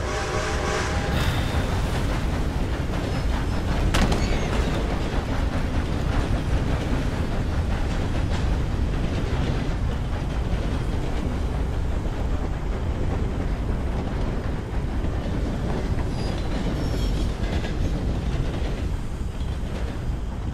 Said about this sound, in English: I think I can hear a train coming.